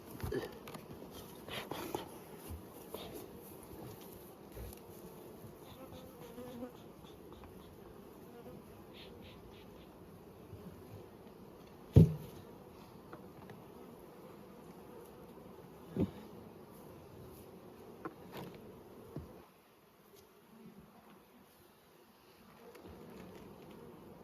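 Honeybees buzz steadily around an open brood box during spring hive work, a dense close drone broken by a few sharp knocks from handling equipment.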